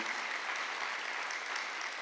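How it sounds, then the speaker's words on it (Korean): A church congregation at a Sunday worship service applauds in a dense, sustained wash of clapping, moderately distant and unbroken. "박수 한번 더 해주세요"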